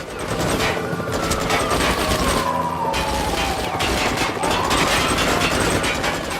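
Loud, dense bursts of gunfire in the PS3 driving game Wheelman, a continuous volley of shots over a wailing siren and mechanical noise, with no speech.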